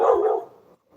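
A big guard dog, a female, gives a single loud, close bark that tails off into a brief quiet, heard alone with no talking.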